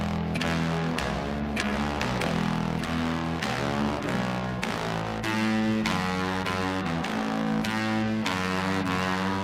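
Heavily distorted fuzz guitar solo, its grit caused by a faulty preamp on the recording board, buzzing sustained notes over a steady backing track, loud and continuous with no talking.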